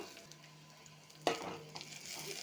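Onions and a couple of dry red chillies frying in a pan for onion curry, a soft steady sizzle with a sharper burst of frying and stirring midway, close and moderately loud, no talk.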